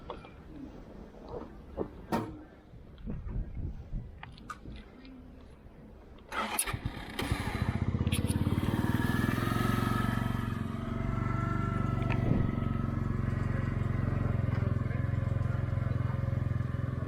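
A Mash Fifty 50cc Euro 4 geared motorbike, faint clicks and handling noises before the engine fires at about six seconds, then settles into a steady, buzzing small-engine idle that runs loud to the end.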